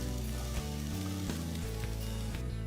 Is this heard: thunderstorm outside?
no